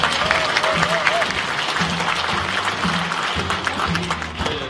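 Applause from a seated audience at a police veterans' association anniversary ceremony in a large concert hall, a steady wash of clapping that fills the clip at moderate loudness with a low voice or music murmuring underneath.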